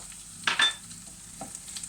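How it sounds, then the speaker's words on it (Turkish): Soft sizzle of onions and green peppers sautéing, under a couple of brief scraping stirs of a utensil in a pan, quiet and close. "İkisini beraber sotelemeye devam ediyorum."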